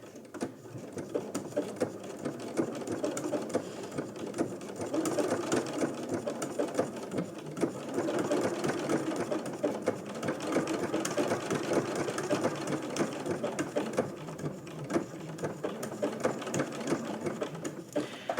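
Sewing machine stitching raw edge appliqué along a fabric edge, a steady continuous motor whir with rapid needle clatter running throughout at close range, no talking.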